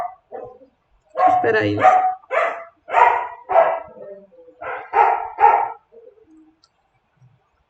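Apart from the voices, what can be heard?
dog barking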